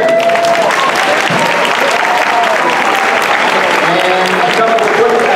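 An audience at a bodybuilding and figure competition claps for the women on stage, loud sustained applause with some cheering, while a few voices and a tonal sound run faintly beneath the crowd.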